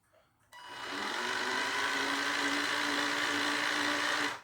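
The small electric motor of a NewBright Brutus ride-on toy jeep, converted from a Barbie Jeep, starts abruptly and whirs at a steady pitch running forwards, close and loud, then cuts off.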